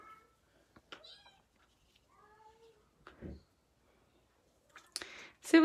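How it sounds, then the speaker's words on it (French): A male Bengal cat meows several times in short, separate calls against a quiet room background, with scattered clicks, and a louder, drawn-out cry near the end. "mon mâle bengale, il miaule à tabarouette"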